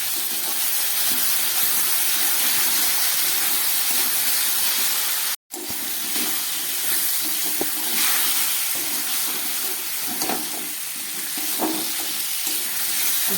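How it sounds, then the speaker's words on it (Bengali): Coriander powder, salt and turmeric frying for a fish curry, giving a continuous loud sizzle with steam hiss, interrupted once by a brief dropout, with occasional soft stirring scrapes over the frying. "ধনে নুন হলুদ দিয়ে খুব ভালো করে আমি কষিয়ে নিলাম।"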